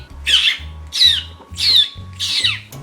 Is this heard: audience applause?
no